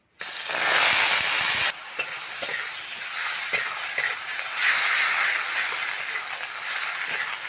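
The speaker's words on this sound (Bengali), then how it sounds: "তেলের মধ্যে ওল্ডাটা সিদ্ধটা দিয়ে দেবো" Boiled elephant foot yam stalks fry in oil with a steady crackling sizzle, broken by repeated scraping stirs and a few sharp clinks, close and fairly loud with no voices.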